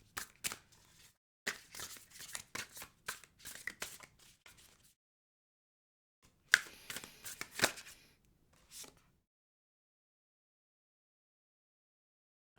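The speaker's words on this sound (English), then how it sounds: "So I'm going to shuffle here real quick and see what pops out" Tarot cards shuffled by hand in quick bursts of crisp riffling and slapping, two main runs separated by a pause, fairly close and quiet with no voices.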